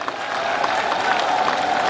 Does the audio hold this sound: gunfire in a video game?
no